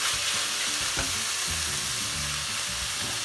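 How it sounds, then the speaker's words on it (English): Tofu stir fry noodles with boiled vegetables sizzle steadily in a pan, with repeated scraping and tossing of the stirring utensil, close and continuous throughout with no talking. "just keep stirring because it's just a stir fry"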